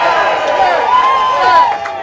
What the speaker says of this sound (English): Join me in giving a round of applause to the State Conference President, William J. Barber II